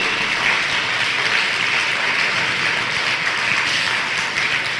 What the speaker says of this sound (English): give another big round of applause from Tubman City